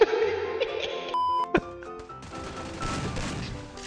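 Gunfire in the Free Fire video game comes as a few sharp shots and short bursts mixed with game effects, at moderate level and without talking.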